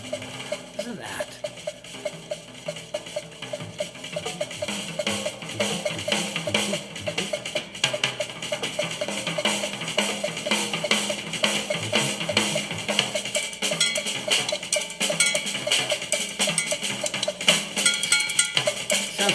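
A drum solo with rapid double strokes, a dense, continuous flurry of cymbal wash and fast snare and tom hits, busy and loud with no talking.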